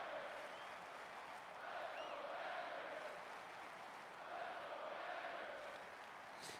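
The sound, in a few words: football stadium crowd cheering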